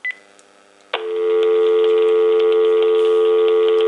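A brief tone chirps, then a steady, loud telephone dial tone starts and holds continuously, slightly tinny through the speakerphone of a Panasonic KX-TG5243 cordless phone.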